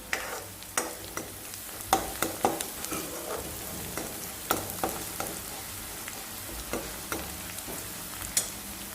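Curry leaves and spices for a potato bhaji sizzle and fry in a pan. A spoon stirs them with repeated sharp scraping clicks over a steady crackle. Nobody speaks.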